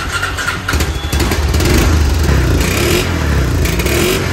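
Restored ATV quad engine being turned over and firing up: a cranking stutter that catches into a loud, close, rough-running idle with uneven revving pulses.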